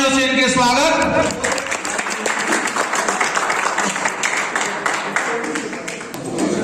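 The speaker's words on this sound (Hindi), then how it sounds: "जोरदार तालियों से इनके स्वागत।" Loud applause welcoming a guest at a wrestling event attended by a local MLA, broad clapping that swells after a voice and music, continuing with crowd noise throughout.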